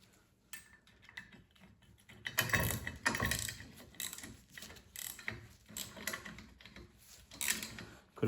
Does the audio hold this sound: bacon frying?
no